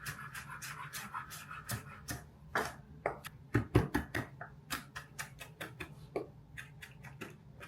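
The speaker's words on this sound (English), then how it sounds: "parsley to chop up" A knife chops fresh parsley on a cutting board in a home kitchen, producing a quick, steady run of close, crisp taps that peaks in loudness near the middle before settling into a lighter rhythm.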